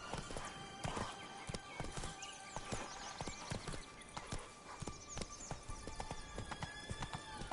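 The horse Roach in the Witcher 3 video game trotting with dense, rhythmic hoof clip-clops close by, and a whinny blended into the busy mix.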